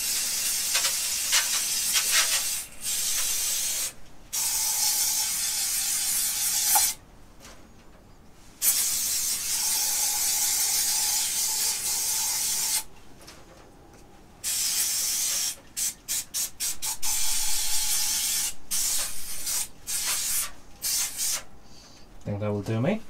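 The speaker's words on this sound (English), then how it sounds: "give all these little bits and pieces a bit of a brake cleaner" Brake cleaner sprays from an aerosol can onto small car parts during a Toyota Avensis T27 diesel service, in repeated hissing bursts of a few seconds each, separated by short pauses, loud and close.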